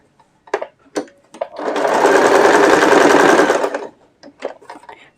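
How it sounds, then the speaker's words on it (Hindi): A sewing machine runs in one steady burst of stitching as strips are joined for a readymade neck, with a few clicks and handling sounds before and after. "इस तरीके से आपने पक्की पक्की सिलाई लगा देनी है"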